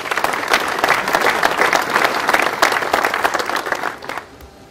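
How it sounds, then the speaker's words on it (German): At the official opening ceremony for the Wallern an der Trattnach fire station, an audience welcomes a police district inspector with a burst of dense, loud applause. It holds steady for about four seconds, then quickly dies away. "Applaus"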